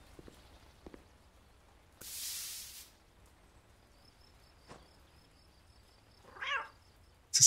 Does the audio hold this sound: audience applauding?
no